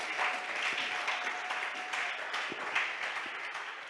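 Church congregation applauding and cheering in praise, a steady wash of clapping and acclaim that holds at an even level throughout.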